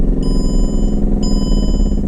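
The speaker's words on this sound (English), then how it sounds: "Nasty engine knock." Flood-damaged 2004 Mercedes CLK500 engine running with knock, a loud close rhythmic low clatter repeating steadily, with a faint high chime sounding twice.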